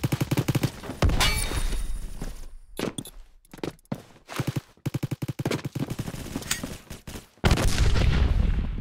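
Video game gunfire crackles in dense, rapid bursts of automatic shots with brief pauses between volleys, loud and close, ending in a sustained roar of heavy fire.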